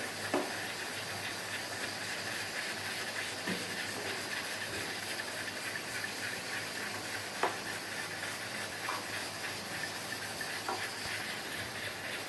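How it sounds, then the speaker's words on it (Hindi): Semolina (suji) frying in a pan over a medium-low flame, a steady broad hiss with soft scattered crackles and the occasional scrape of stirring, constant and close with no voices. "सूजी को हम सुनहरा होने तक फ्राई करेंगे"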